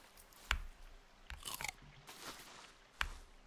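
A character in The Forest munches crunchy mushrooms: sharp, close crunching bites with a cluster of chewing scrapes between them, loud against a quiet background with no talking.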